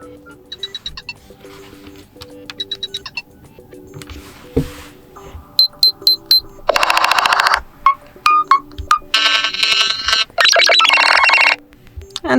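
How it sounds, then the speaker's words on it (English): Nothing Phone 1 ringtones sound one after another, a sequence of bright electronic chimes, beeps and melodic tone patterns, loud and close, shifting character every second or two. "now you'll be able to hear each ringtone"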